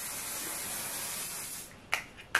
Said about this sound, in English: We're going to set our face with the one size setting spray.